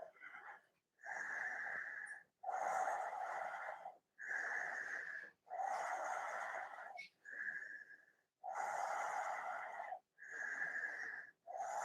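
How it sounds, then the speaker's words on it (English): Slow, rhythmic breathing in and out during a yoga shoulder stand, each breath a close, airy, slightly wheezy rush, repeating about seven times with short pauses between and no talking. "Nice fluid breaths in and out."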